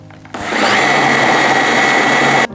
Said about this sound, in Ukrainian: Подрібнюємо печиво в фуд-процесорі.